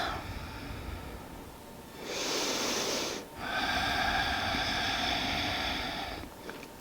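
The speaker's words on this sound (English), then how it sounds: "Breathe, focus on the breath. And in." Deep yoga breathing up close: a slow, soft inhale, then a longer, louder airy breath drawn through the nose, with no talking.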